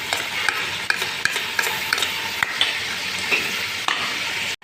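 Garlic and ginger fry in a pan for chicken biryani, giving a steady close sizzle. Light stirring scrapes and soft utensil clicks come through every second or so, and the sound cuts off abruptly at the end.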